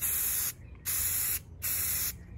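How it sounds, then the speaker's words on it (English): Three bursts of aerosol spray paint, gloss black applied from a distance onto gauges for a 1981 Camaro, each a steady broadband hiss about half a second long with short pauses between, close and fairly loud with no talking. "But spray from far away, like about this,"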